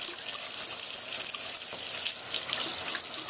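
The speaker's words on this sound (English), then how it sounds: "I'm going to turn my water on and I'm going to rinse it" Water runs steadily from a bathroom tap as a makeup brush is rinsed under it, producing a constant, close splashing hiss with no talking.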